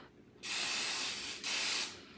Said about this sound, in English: if we spray these down with some nonstick spray, it actually makes the batter fall out much, much easier